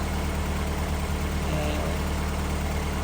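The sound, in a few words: Mazda MX5 engine idling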